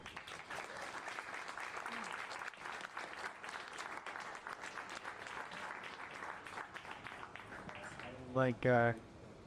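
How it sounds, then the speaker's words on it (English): Audience applause at the close of a panel on artist management and A&R at the ASUPROX 2026 conference, sustained and fairly faint, with voices briefly rising near the end. "let's give it a round of applause"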